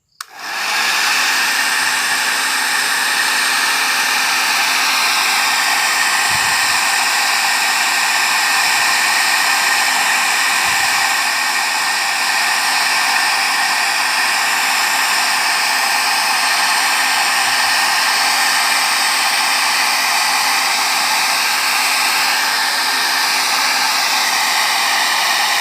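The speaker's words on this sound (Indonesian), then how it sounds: "Oke, kita keringkan ya pakai hair dryer." A hair dryer runs loud and steady for the whole stretch, blowing over screen-printed ink on a t-shirt, a constant rushing whoosh with a faint motor whine and no pauses.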